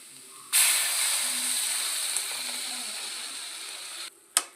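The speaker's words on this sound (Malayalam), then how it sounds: "നേരത്തെ നമ്മൾ മിക്സിയിൽ അരച്ച് വെച്ച തക്കാളി ഒഴിച്ചു കൊടുക്കാം" Ground tomato purée poured into a hot pan for a macaroni dish sets off a sudden loud hissing sizzle that fades gradually, then a short clatter near the end, close by with no talk.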